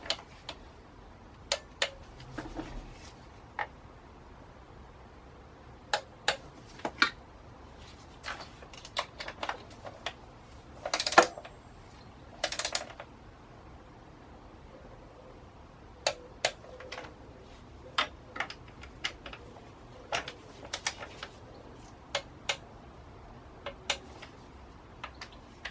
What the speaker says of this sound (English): now I've just got to torque them all down to 10 Newton meters